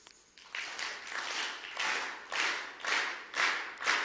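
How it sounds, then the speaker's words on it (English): An audience at a business talk claps hands together in rhythm, producing loud, regular bursts about every half second. The bursts grow steadier and more unified as the clapping continues, with no speech over it. "Could I ask all of you to clap your hands in rhythm,"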